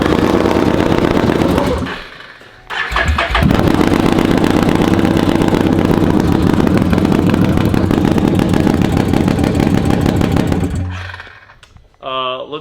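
A Can-Am Renegade ATV engine fitted with a new exhaust runs loud and steady, with a brief dip near the start and a fade near the end, the rough mechanical roar filling most of the clip.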